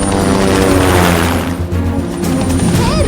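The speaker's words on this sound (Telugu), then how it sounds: "రోడ్డు మీద హెలికాప్టర్ దిగుతోంది" A helicopter lands on a road, its rotor and engine roaring loud and close as a steady, dense drone that fills the scene throughout, with no talk over it.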